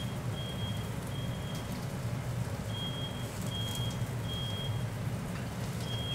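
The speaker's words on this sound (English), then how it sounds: "Oh, we got the smoke alarm going off." A kitchen smoke alarm gives repeated short high beeps in groups, fairly faint against a steady sizzling background of cooking.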